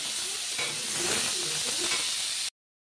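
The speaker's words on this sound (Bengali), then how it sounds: "পেঁয়াজটা ভালো মতন ভাজা হয়ে গেছে" Onions sizzling and frying in shallow oil in a home kitchen, a steady close hiss with occasional stirring scrapes, no talking.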